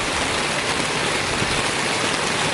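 Heavy rain drumming on a tarptent, a dense, even roar of countless drops on the fabric, loud and unbroken throughout.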